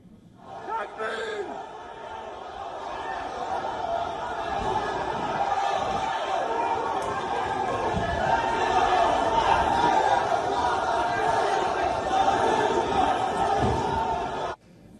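Angry mob at Dagestan airport, a dense roar of many voices shouting and chanting that swells and stays loud for most of the stretch before cutting off abruptly.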